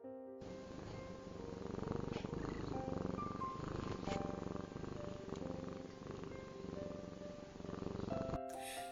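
Leo, a marmalade cat, purrs close up in a steady, rumbling rhythm, soft overall, with faint tonal music in the background.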